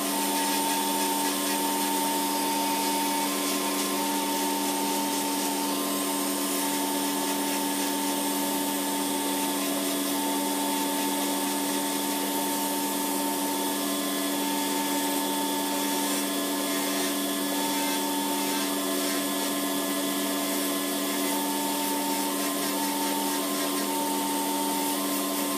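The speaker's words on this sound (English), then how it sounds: "And now we're using the vacuum." Dust extraction vacuum on a professional pedicure drill machine, running during filing of gel and acrylic nails, a steady loud whining hum with tonal whistle lasting unbroken throughout, close by.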